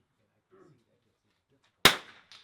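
One sharp rifle shot at an NRL22 shooting match, close and fairly loud with a short ringing decay, after a brief faint murmur and a quiet lead-in.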